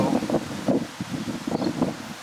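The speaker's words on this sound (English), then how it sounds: "Really windy day right now, which would figure. It's always windy in South Dakota." Gusty South Dakota wind buffeting the microphone in uneven bursts, with leaves rustling, loud and close, no voices.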